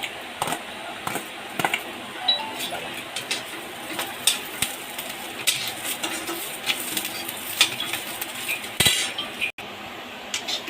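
Garlic cloves and dry coconut fry in a pan, giving a soft sizzle under frequent metallic clinks and scrapes of a spoon against the pan, with irregular sharp taps throughout.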